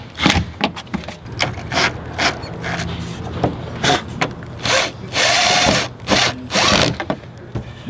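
A cordless power drill drives rusty self-tapping screws into a widebody kit on a car build, in loud repeated bursts of whirring and ratcheting bites separated by short pauses, close up with no talk.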